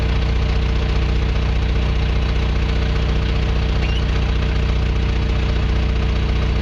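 A John Deere 650K dozer's diesel engine runs at raised RPM, a loud, steady, close rumble with a rapid knocking pulse and no voices.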